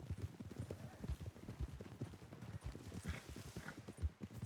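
Horse hooves clip-clopping at a steady walking rhythm in the Red Dead Redemption 2 game, a continuous run of soft, close footfalls at low volume with no talking over them.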